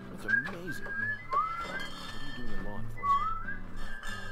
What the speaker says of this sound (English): So the whistle song's playing.